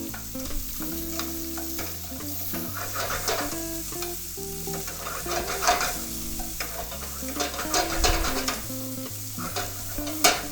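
Chopped onions sizzle loudly in a hot pan for a pot roast, a continuous close frying hiss broken by repeated scraping stirs, with music playing underneath.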